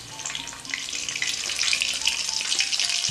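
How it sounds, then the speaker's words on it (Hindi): Coated crispy chicken fries in oil over a high flame, a loud, dense bubbling sizzle that swells slightly over a few seconds, close and with no talking. "शुरू के 2 से 3 मिनट आपने हाई फ्लेम पर इसे फ्राई करना है"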